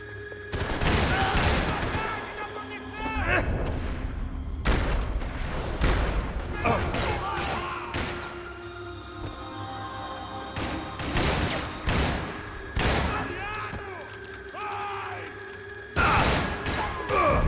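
Rapid gunfire fills a shooting arena in Max Payne 3, with dense bursts and sharp shots crackling close and loud through the whole stretch, broken by heavy thuds and impacts.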